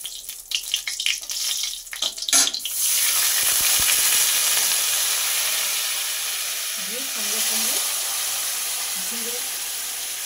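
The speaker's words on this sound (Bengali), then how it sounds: "অল্প পরিমাণ জলের মধ্যে 1 চিমটি হিং গুলে রেখেছিলাম। এবার এটা এই তেলের মধ্যে দিয়ে দেব।" Asafoetida water poured into hot oil, handled close with clatter and a splash, then a sudden loud hissing sizzle that steadies and slowly fades over several seconds.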